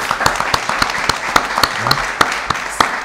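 Studio audience applause on a French talk show, a steady crackle of many hands with a few sharper claps standing out, fairly loud and sustained with no talk over it.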